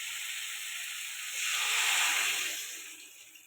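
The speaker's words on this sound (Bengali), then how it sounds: "এবার জল দিয়ে দিলাম।" Water goes into a hot pan of spiced fish-head chorchori with eggplant, tomato and potato, producing a steady steamy hiss that swells into a louder sizzling rush and then eases off, with no voices.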